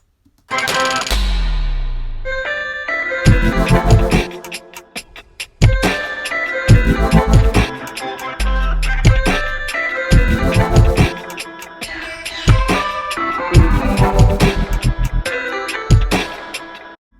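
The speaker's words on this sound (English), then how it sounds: "the result is a sub drop. Now, let's just take a listen to the drop." Deep sub-bass tones slide steadily downward in pitch as a pitch-bend sub drop, dropping twice amid a loud, busy electronic beat with sharp percussive hits.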